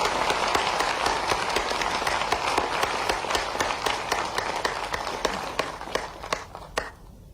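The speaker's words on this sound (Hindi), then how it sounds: "मैं तालियों की गड़गड़ाहट से उनका हम स्वागत करता हूं।" An audience of teachers, scientists and students at an event in Gwalior applauds to welcome the Vice President, with dense, steady clapping filling the hall for about seven seconds before it thins and stops abruptly near the end.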